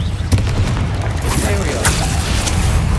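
A Confringo blast spell from Hogwarts Legacy lands as a heavy boom with a deep low-end thud. Sharper crackling pops follow, set against a busy background of game combat noise and voices.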